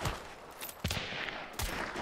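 Gunshots in the Hunt: Showdown multiplayer shooter, with a few sharp, fairly distant reports spaced apart over a noisy, reverberant background.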